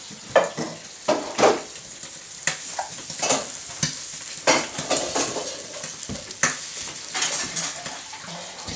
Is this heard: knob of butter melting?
yes